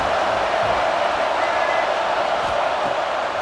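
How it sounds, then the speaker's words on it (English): A home Crimson Tide crowd roars steadily at Saban Field on third down in EA Sports College Football 26, a dense, continuous wash of stadium noise without breaks. "The Tide crowd rolling noise down onto Saban Field on 3rd down."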